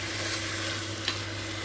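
Tomatoes, curry leaves and green chilies frying for Hyderabadi mutton biryani, a steady close sizzle with a low hum underneath and one short utensil tap partway through.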